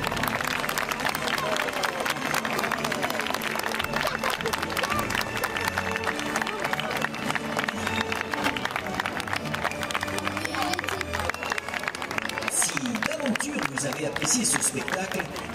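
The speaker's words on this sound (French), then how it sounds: "je vous demande d'applaudir encore une fois les Cowboys de Québec" A live audience at a cowboy-themed Wild West show, Cowboys de Québec at an OK Corral spectacle, claps continuously in a dense, even patter, with crowd murmur and some voices mixed in.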